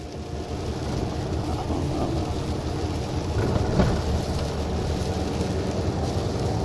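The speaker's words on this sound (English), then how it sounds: "It's raining like cats and dogs." Heavy rain drums steadily on a truck's cab and windshield during a downpour, with a rumble of thunder under it. The wash of sound is loud and continuous, with no talk.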